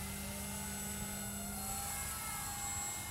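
Electric motor of a Tower Hobbies Vista Brushless RC glider, a steady high-pitched whine with a droning propeller buzz that rises slightly in pitch as the throttle opens, continuous and fairly loud with no voices.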